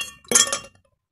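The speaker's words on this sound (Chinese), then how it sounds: "先放一大块冰块" A large ice cube drops into a glass, giving a single sharp clink with a short ringing tail that quickly fades to silence.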